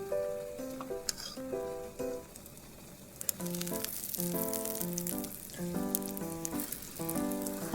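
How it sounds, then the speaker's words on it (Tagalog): Two eggs scrambling in a frying pan give a steady soft sizzle with occasional scrapes, partly masked by melodic background music with a steady beat throughout. "Nag-ready na nga rin ako ng 2 egg para i-scramble."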